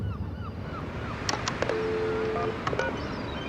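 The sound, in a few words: telephone number being dialed, DTMF tones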